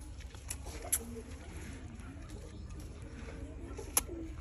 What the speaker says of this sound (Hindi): ये जी इन्होंने कबूतर शबूतर भी रखे हुए हैं इधर।